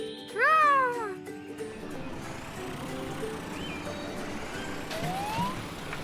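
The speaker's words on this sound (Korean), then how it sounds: "탐이 앰버의 사이렌을 들었대요." A high wailing ambulance siren from a children's animated cartoon rises and falls over a steady background hum, with fainter siren sweeps following later.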